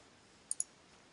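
Computer mouse giving two quick, faint clicks in close succession against quiet room tone.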